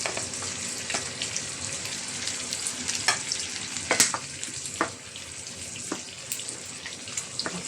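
Tomatoes fry in a hot pan for pinakbet, a steady sizzle under repeated scrapes and clinks of a spoon stirring, with a few sharper knocks against the pan.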